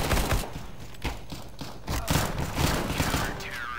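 Gunfire in Counter-Strike: Global Offensive, including shotgun blasts, comes as repeated loud, close shots in quick succession over a busy game soundscape.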